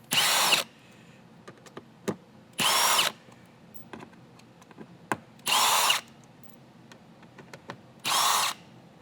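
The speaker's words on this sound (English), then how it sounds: "At the top of the glove box are 4 T20 screws that we're going to remove." A power driver backs out T20 screws along the top of a BMW F10 glove box in four short, evenly spaced whirring bursts, close and loud, with small clicks and handling noises between them.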